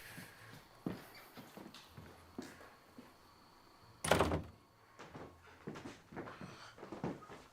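Indoor door being shut, a loud thunk near the middle standing out above scattered footsteps and small knocks, with no talking.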